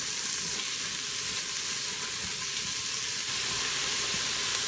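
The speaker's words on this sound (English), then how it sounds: "I'm going to saute that up a little bit. To get it all nice and hot." Vegetables sautéing in an Instant Pot for potato soup make a steady, close, continuous sizzle and hiss with no break. No one talks.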